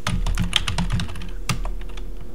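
Keys clatter on a computer keyboard in quick, uneven bursts of close, crisp taps, with a brief pause before a final flurry.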